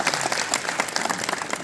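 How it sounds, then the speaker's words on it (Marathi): Steady crowd applause at the 15th Goa Marathi Film Festival: many hands clapping together in a thick, continuous patter that stays fairly even throughout the short burst. "संजय शेटे यांच्यासाठी जोरदार टाळ्या झाल्या पाहिजेत या महोत्सवाच्या यशस्वीतेसाठी"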